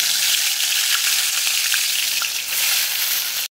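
Loud, steady crackling sizzle of fish frying in hot mustard oil, close up and continuous, cutting off abruptly at the end.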